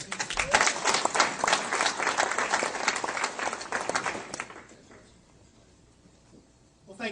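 A debate audience applauds with dense, loud clapping for about four and a half seconds, then it fades to near silence before a brief sound at the end.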